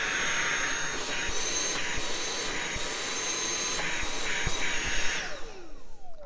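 A Dyson V7-11 cordless vacuum runs with an extension hose attached, a loud, steady whining whoosh with slight fluctuations in pitch and a few bumps before it winds down at the end.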